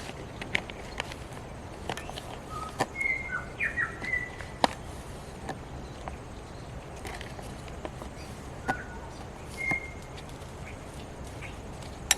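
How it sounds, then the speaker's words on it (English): Several short bird chirps ring out intermittently over outdoor ambience at Otamahua Hut on Quail Island, with scattered clicks and taps throughout. "Lots of birds around here."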